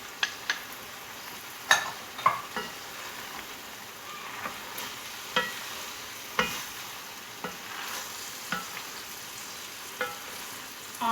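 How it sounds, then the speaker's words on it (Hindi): Masala okra (bhindi) frying in a pan with lemon juice, stirred gently by hand: soft scraping strokes at an irregular rhythm over a low, steady sizzle, close and fairly quiet. "इसको हल्के हाथ से हमने चलाना है, भिंडी टूटने का खतरा होता है ज़्यादा चलाएंगे तो"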